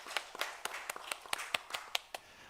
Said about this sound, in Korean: 하나님께 영광의 박수를 드리겠습니다